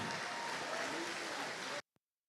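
Applause from an audience at a Grade 9 farewell ceremony for class 9D, a dense, steady wash of clapping that cuts off abruptly, followed by one faint isolated clap.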